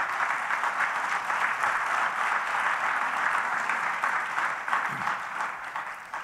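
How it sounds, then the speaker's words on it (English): Sustained audience applause after a speech at the Pray Vote Stand Summit, a steady, dense wash of clapping from a large crowd lasting the whole stretch and tapering slightly near the end. "Thanks for the applause."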